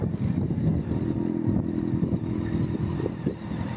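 A motorcycle runs steadily at a riding school where students learn to ride, its low engine rumble continuous and fairly close, with slight rises in revs and no voices.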